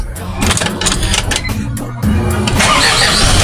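An engine cranks and catches, then runs steadily at a loud, close idle with a mechanical clatter, the sound stepping up in level midway as it settles into running.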